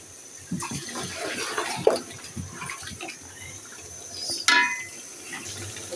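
Water is poured into a pot of well-braised meat for kabsa, making close splashing and gurgling bursts of liquid, with a louder pour near the end.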